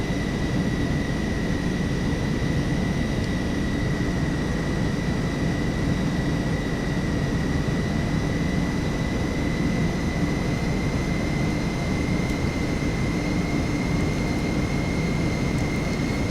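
Boeing 727 jet engines in a Captain Sim multi-crew flight simulator, a loud, steady cockpit drone with a thin high tone running through it, holding constant for the whole stretch with no voices.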